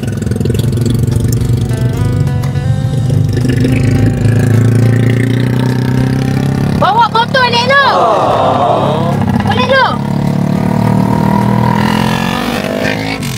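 A motorcycle engine drones steadily while riding, a loud mid-pitched hum with shifting tone, as someone talks over it in the middle and another vehicle passes.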